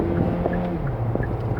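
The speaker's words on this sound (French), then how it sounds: "Donc là on entend vraiment clairement le moteur thermique" The combustion engine of a Hyundai Ioniq plug-in hybrid drones under acceleration, a steady close hum with shifting tones over road and wind rumble inside the car, without talk.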